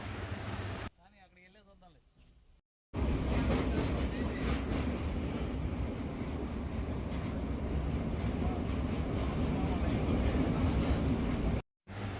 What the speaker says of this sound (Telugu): ఇప్పుడు ట్రైన్ అయితే విజయవాడ నుండి బయలుదేరిందండి.